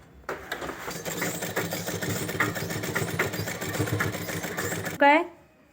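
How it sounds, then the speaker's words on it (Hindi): A sewing machine runs steadily along the edge of fabric for a child's gown, a close, continuous mechanical whir with rhythmic stitching ticks that stops abruptly near the end. "फिर इसके ऊपर सिलाई लगानी है हमें यहाँ पे किनारे किनारे पे।"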